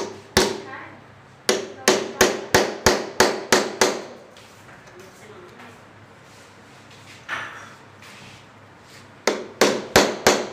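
Hammering on wood while building an LED showcase cabinet, making a hole for a bolt: sharp, close, evenly spaced blows in two quick bursts of about eight strikes each, with a shorter burst near the end and quiet pauses between.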